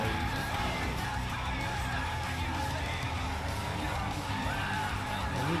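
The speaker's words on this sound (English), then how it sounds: "Slipped my tires." Tires skid and screech in a racing video game, a steady loud smear of tire and engine noise with a faint crowd-like layer behind it.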